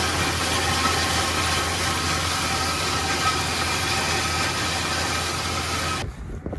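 A tractor engine drones steadily while disking and rolling a soybean field, a continuous mid-loud rumble with wind noise that cuts off abruptly near the end.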